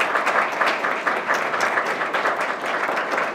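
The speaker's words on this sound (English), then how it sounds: "Can we give our Legacy Award winners a round of applause?" An audience at an awards ceremony in Windsor, Connecticut applauds the winners, a lively burst of close, crisp clapping lasting a few seconds with no speech.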